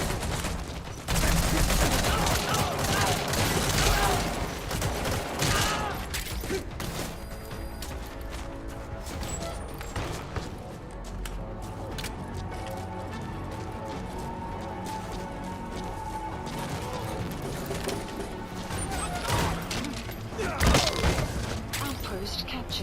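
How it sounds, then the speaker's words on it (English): Unsuppressed weapon fire in a video game rings out loudly in sharp bursts, heaviest at the start and then sporadic shots and impacts over about twenty seconds, with voices talking along the way. "Bear in mind, your weapon will be loud from now on."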